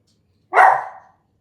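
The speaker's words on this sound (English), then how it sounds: "My dog decided to bark." A single dog bark, sharp and fairly loud, sounds close by and alone in a quiet indoor room.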